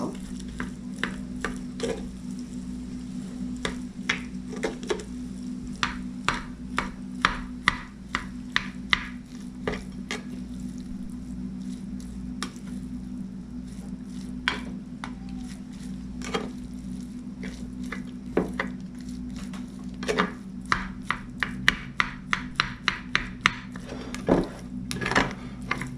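Cooked rice mixed by hand for baked sushi: soft, repeated squishing and light clicking taps in irregular bursts over a steady low hum, close and fairly quiet, with no talking.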